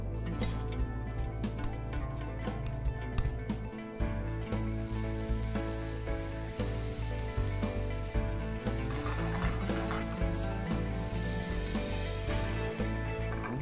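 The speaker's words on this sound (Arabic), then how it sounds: "القلاية حارة حنحط فيها الزبدة" Butter sizzling in a hot Tefal frying pan, a steady crackling fry with faint ticking pops running throughout, close and fairly quiet, with no talk.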